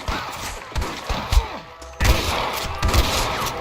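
Sniper rifle gunfire in the Red Dead Redemption video game on PC: several sharp shots and thumps ring out, with a loud cluster after a brief pause, over a busy background of game ambience.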